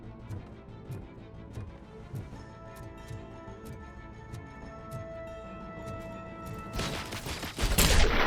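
A .50 cal rifle fires in RoboCop: Rogue City, with regular rapid shots cracking over a steady game soundtrack before a loud, harsh blast near the end.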